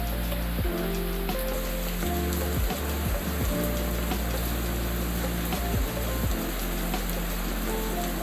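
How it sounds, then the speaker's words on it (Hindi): Steady rain falls in Indore, a dense continuous patter on surfaces with a few low thumps and no voices. "और एकदम से बारिश हो गई"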